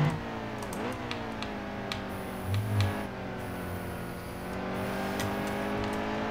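A NASCAR Cup race car on the Watkins Glen road course in the NASCAR Heat 2 racing game accelerates through the gears, its engine note climbing and dropping with each upshift. The engine stays loud and steady throughout, with no talk over it.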